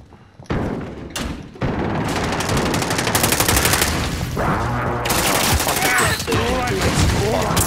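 Rapid automatic gunfire in Warzone Resurgence, a video game: loud, dense bursts of close shots rattle almost continuously with heavy thuds and brief pauses between volleys, and a voice talks faintly underneath.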